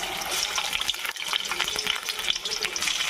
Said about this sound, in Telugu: ఎక్కిందండి ఆయిల్. మనం చికెన్ పకోడీ వేసేసుకుందాం.